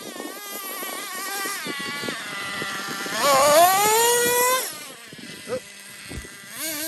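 Revo 3.3 engine on a barn-find boat running roughly, a loud, close buzzing drone that rises and wavers in pitch midway before settling, with a brief voice at one point.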